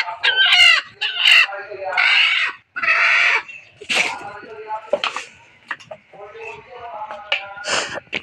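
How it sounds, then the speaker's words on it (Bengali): A hen at a village house clucks and squawks in several close, loud bursts with pauses between them. A person talks in between the calls. "আর আমাদের একটা মুরগি আছে না, এই জায়গায় কমে বসছে"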